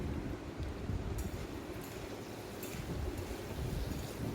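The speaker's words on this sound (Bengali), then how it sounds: "গ্যাসের ফ্লেম মিডিয়াম টু লো রেখে আলুটা ভাজতে হবে" Potatoes with turmeric and salt frying in a pan over medium-low flame for Bengali cauliflower curry give off a steady, dense sizzle and crackle. It holds close and even throughout, with no talk.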